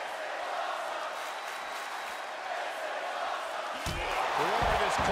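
Arena crowd in the WWE 2K22 wrestling video game during an Extreme Rules match: a sustained, dense roar of cheering that swells and grows louder toward the end, with a few thuds and a commentator's voice coming in late.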